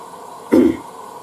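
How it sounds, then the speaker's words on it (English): A single short dry cough from a person, fairly close and alone over a quiet background hum of a Blomberg washing machine on its rinse cycle. "I got a bit of a dry cough today, though."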